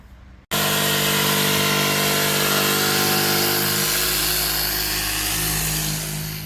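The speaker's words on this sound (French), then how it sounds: "on découpe notre OSB avec la scie circulaire dans l'atelier" A circular saw cuts steadily through OSB board in a workshop, loud and close, starting abruptly after a brief quiet moment and whining on for several seconds.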